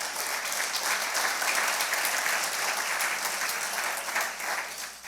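A church congregation applauds steadily together, a dense wash of clapping hands sustained with little change for several seconds and no voices over it.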